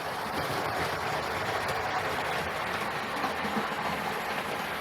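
A Dapol Hinton Manor model steam locomotive runs along its layout track, giving a steady close rumble and rolling clatter throughout with no talk.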